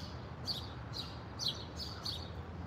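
A small bird chirps outdoors, five short high tweets spaced about half a second apart, moderately close over a soft background hum, with no talking.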